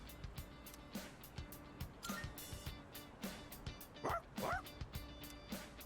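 A dog barks in short repeated yips and woofs, roughly one every second, with a couple of whining, whimpering calls in between, fairly close and faint overall.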